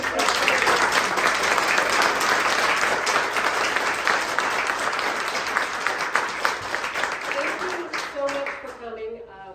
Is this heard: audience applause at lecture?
yes